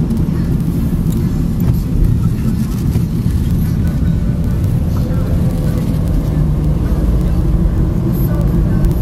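A car cruising across a highway bridge on an Australian expressway heading out of the city, with a steady, loud low road and engine rumble holding constant throughout and no clear individual events.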